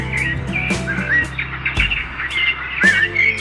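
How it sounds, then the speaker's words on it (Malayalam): Birds chirp and tweet repeatedly in short, bright bursts, fairly close and steady, against a soft outdoor background with no talking. "അവിടെ ഇവിടെയൊക്കെ ഫുള്ള് കിളികളാണ്"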